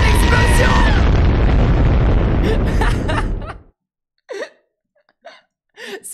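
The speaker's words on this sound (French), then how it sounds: "Oh, l'explosion." A loud explosion sound effect booms during a livestream, a sustained roaring blast lasting a few seconds before cutting off abruptly, followed by short bursts of a woman's speech.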